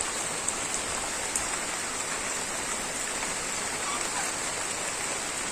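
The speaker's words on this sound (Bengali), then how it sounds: "বাতাস সেই সাথে বৃষ্টি, এখানে বৃষ্টি একটু কমছে কিন্তু বাতাসটা অনেক বেশি আছে মোটামুটি।" Rain driven by strong wind in a Bangladeshi village, a dense steady hiss with a few sharper drop taps, close and constant throughout, no talk over it.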